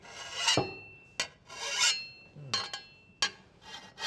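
A metal file rasps across a garden tool blade in short separated strokes, about five or six scrapes with pauses between, close and fairly quiet with no talking.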